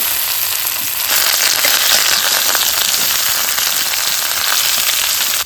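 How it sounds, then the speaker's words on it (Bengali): Ginger paste fries in hot oil with black cumin seeds, giving a loud, continuous close-up sizzle and crackle that intensifies after the first second and holds steady with no voices. "এই আদা বাটাটা একটুখানি ভালো করে লাল করে ভেজে নেই।"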